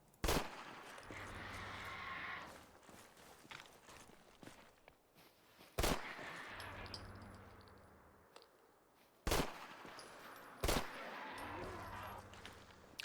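Gunfire in a modded Fallout game, a few loud sharp shots spaced several seconds apart over a murky background of footsteps and ambient game noise, with no speech.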